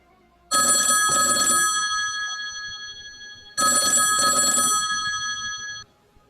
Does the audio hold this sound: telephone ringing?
yes